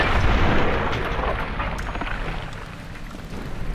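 A weapon fires in the video game Fallout: New Vegas, one heavy explosive boom at the start whose rumbling noise slowly decays, with a few faint crackles after.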